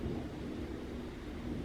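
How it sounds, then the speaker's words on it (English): Low, steady rumble of distant thunder during a Florida spring storm, a continuous deep roll with no sharp crack, heard alone. "the thunder has started becoming more regular"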